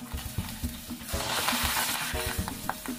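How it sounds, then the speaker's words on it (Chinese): Seasoned fish scales deep-frying in plenty of hot oil in a wok, giving a dense, steady sizzle close up, with light stirring clicks and scrapes throughout. "锅里倒宽油，依次放入鱼鳞油炸"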